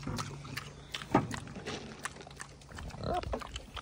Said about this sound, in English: The sweetest little piggy ever.